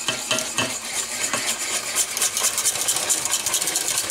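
A spoon stirs chicken stock and flour in a pan, giving a steady scraping, clinking rhythm at moderate volume with a faint hum beneath.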